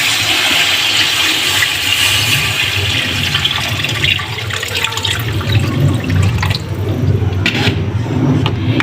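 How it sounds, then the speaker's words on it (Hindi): About four glasses of water, roughly a litre, are poured into a cooking pot of beef for nihari, a loud, continuous gushing and splashing that gradually settles into trickles and drips. "अब इसके अंदर मैं डालूँगी 4 गिलास पानी"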